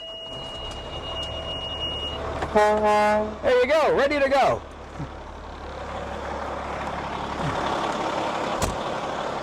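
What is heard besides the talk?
fire tanker truck engine starting and idling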